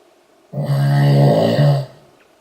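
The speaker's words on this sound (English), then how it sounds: "Shih Tzu snoring." A Shih Tzu gives a single snore, a drawn-out nasal rumble with a short break partway through, close and clear against a quiet background.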